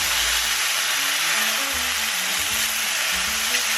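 Sausage and garlic sizzle steadily in a pot of one-pot orecchiette pasta, a dense continuous frying hiss with occasional low knocks of stirring, close and without speech.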